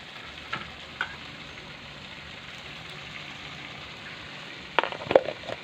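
Salt, turmeric and Kashmiri red chili sizzling faintly in oil in a pan, a low steady fry punctuated by a few sharp clicks and clatters of stirring near the start and end.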